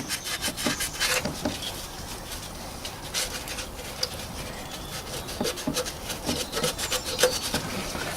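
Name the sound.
rubbing clean the Prius water pump mounting surface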